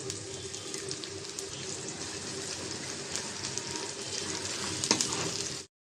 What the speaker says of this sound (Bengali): তেল দিয়ে দিলাম, পেঁয়াজ কুচি আর রসুন কুচি